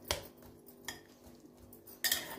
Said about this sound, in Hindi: जो टमाटर मैंने भुना था उसको भी उसको भी मैं मैश कर लूँगी एक साथ सबको